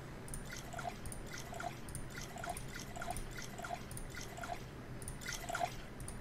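Water being made in the video game Neo Scavenger comes through as faint, steady drips falling in a loose rhythm over a soft background hiss.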